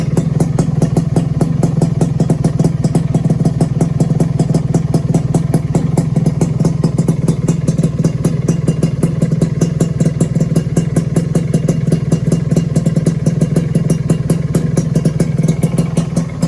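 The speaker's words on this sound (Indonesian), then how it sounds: "Terus suara knalpotnya seperti ini." A two-stroke motorcycle with an oversized cylinder block idles steadily from the exhaust, giving a fast, even, rattling putter. It stays close and constant throughout, with no one talking.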